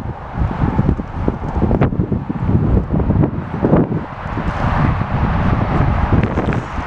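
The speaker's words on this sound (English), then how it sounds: "I know the wind is blowing." Wind blows outdoors in a constant loud rush with gusty buffeting against the microphone, along with broadband rumble and rustle and no clear speech.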